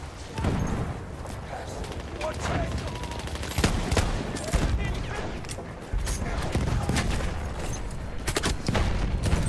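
Grenade blast and surrounding gunfire in the World War I shooter Battlefield 1, loud bursts and booms crowding together over constant battle noise, with a player talking over the chaos.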